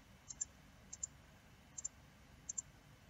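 A computer mouse clicks in four quick double clicks, evenly spaced, while an aeroplane model is textured in software, crisp faint ticks over a quiet room hum.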